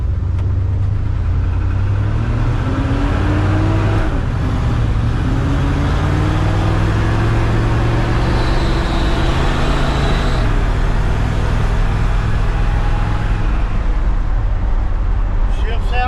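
A 1957 Dodge pickup truck with electric fans drives along a road, its engine humming steadily and shifting pitch as it moves, with someone talking over it.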